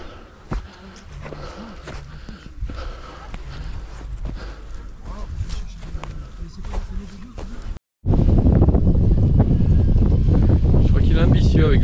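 Strong wind roars across a mountain trail during a trail race, gusting over footsteps and scattered talk, then surging to a loud, continuous rush after a brief drop-out.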